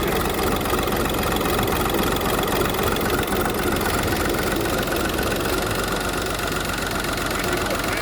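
A car engine idling with worn engine mounts, a steady rough mechanical rumble with slight knocking vibration, loud and continuous throughout, with no talking.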